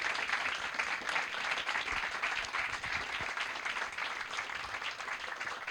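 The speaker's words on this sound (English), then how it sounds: "can we please give our panel a round of applause?" A seated audience at a science festival panel event applauds, a dense steady clapping that holds at an even level throughout, moderately distant and without voices.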